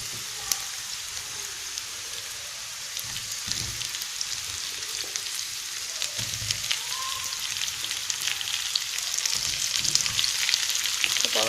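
Pieces of pumpkin frying with carrot in a pan for an English-style ragout: a loud, even hiss of oil crackling nonstop, with occasional soft knocks and a slight swell near the end.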